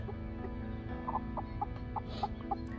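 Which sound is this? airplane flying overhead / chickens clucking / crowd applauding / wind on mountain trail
chickens clucking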